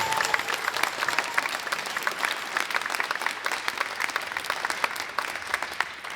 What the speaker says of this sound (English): Please give a wild round of applause for SHS Music Boosters